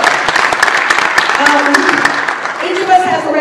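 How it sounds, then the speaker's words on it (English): A crowd at a mayoral candidate forum claps in a brief, moderately loud burst with distinct individual claps, while voices talk over the clapping as it thins out. "I think you need to give yourselves a big round of applause."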